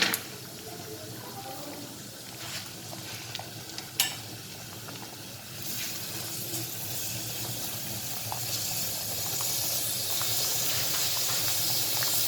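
Onion cooking in oil that is not yet fully hot, for a creamy red lentil and chicken soup, a soft, steady hiss and sizzle with a few sharp stirring clicks and a brief distant voice.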